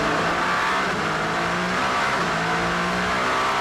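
A Toyota WEC prototype race car passes at speed during the 2022 6 Hours of Monza, its engine a loud sustained roar with steady pitch that holds close throughout, heard alone without commentary.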